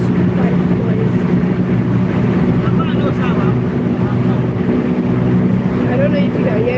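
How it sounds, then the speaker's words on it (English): Steady low engine drone and road rumble inside a moving bus, constant and loud throughout with a faint rattling hum over it. "The moving bus is quite noisy."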